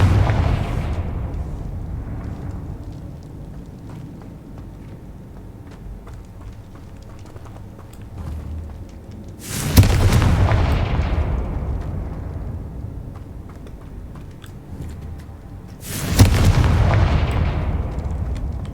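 Confringo explosive spells cast in Hogwarts Legacy, two sharp blasts about six seconds apart, each a loud burst that decays over a couple of seconds, over a low rumbling game ambience with no talk.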